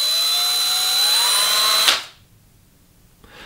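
A Lidl Parkside cordless drill driver with a fault runs steadily with a high whine. It stops abruptly near the two-second mark, then silence follows with a faint click at the end. The sound is close, with no voices.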